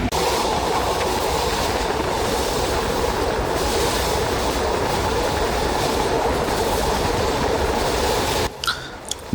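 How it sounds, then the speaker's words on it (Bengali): A passenger train pulls out of Dhaka bound for Rajshahi, heard from inside as a steady, loud rumble with rhythmic clickety-clack of wheels on rails, continuing without pause until a brief dip and a few knocks at the end. "অবশেষে তিনটা পাঁচে ট্রেনটি ছেড়ে দিল এটা রাজশাহী উদ্দেশ্যে"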